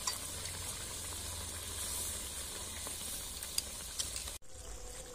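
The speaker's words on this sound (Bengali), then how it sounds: "এবার মাছগুলোকেও 2 মিনিটের মতো ফুটিয়ে নেব" Mourala fish curry (chochchori) with green chilies simmering in a pan, a steady dense sizzle and bubbling hiss held close throughout, cutting off abruptly near the end.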